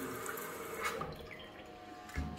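Water runs and drips softly into a wash basin in a Brussels hotel room, a faint steady trickle with a small splash near the end.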